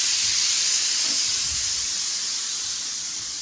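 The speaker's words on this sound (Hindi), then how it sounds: "अभी मैंने चना रखा है उबलने के लिए।" Chickpeas boil in a pot on a gas stove, giving off a steady steam hiss with a faint low bubbling underneath, constant and moderately loud, with no voices.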